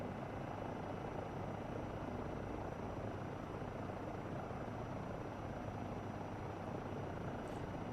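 An EC-135 helicopter in Microsoft Flight Simulator 2024 gives a steady, loud rotor and engine drone that holds evenly without a break.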